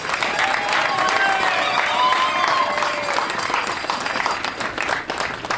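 A crowd at a cyclocross race in Baltimore gives sustained applause and cheering for the winning Mongoose rider, dense clapping with scattered whistles and shouts holding steady throughout.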